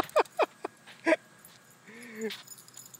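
A dog gives several short, sharp yips and barks in quick succession, followed by a brief drawn-out whine, close and moderately loud in a quiet setting.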